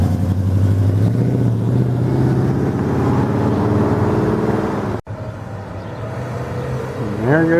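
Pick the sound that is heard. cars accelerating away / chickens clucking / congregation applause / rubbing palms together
cars accelerating away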